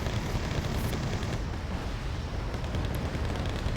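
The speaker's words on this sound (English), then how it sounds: "Buratino seems to be firing his last couple of salvos." A Buratino rocket launcher's salvo in the Wargame Red Dragon video game produces a continuous roaring rumble of overlapping explosions, dense and heavy throughout.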